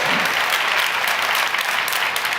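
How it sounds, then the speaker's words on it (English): A large audience at a company vision event claps in a sustained, even wash of applause, loud and close with no voices standing out. "yeah, you need to clap"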